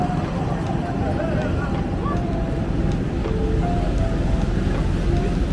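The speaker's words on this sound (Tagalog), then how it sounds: "Lakas sa hangin." Strong wind roars steadily across the microphone at an airport in Nagoya, Japan, with a constant low rumble, loud and unbroken throughout, with faint background noise beneath it.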